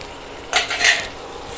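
A spoon scraping and clinking against a pan while stirring ivy gourd masala curry, two quick metallic scrapes over a faint low background, no voices.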